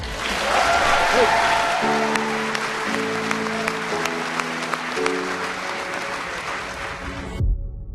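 A large arena crowd applauds loudly and steadily for the Pittsburgh Penguins hockey team, with cheering and a sustained organ-like tone rising over the clapping.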